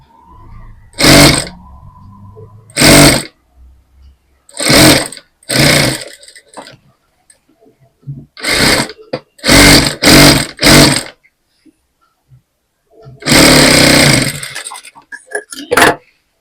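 A sewing machine stitches a sleeve onto a readymade dress in short whirring runs, about a dozen bursts of a second or so separated by pauses, loud and close with no voices.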